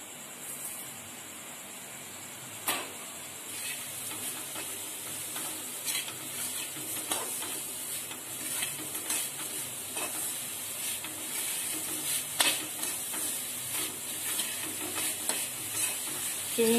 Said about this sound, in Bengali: নাড়িয়ে এটাকে একটু নরম করে নিই।